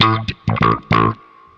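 Bass guitar run through a Soundblox Pro bass envelope filter pedal on its standard setting: a few short plucked notes with a vowel-like filter sweep, loud and close, ending in a quiet decay.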